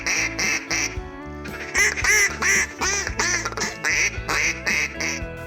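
Ducks quacking during a youth waterfowl hunt, a run of loud, close, nasal quacks in rhythmic bursts, repeated steadily with short gaps between calls.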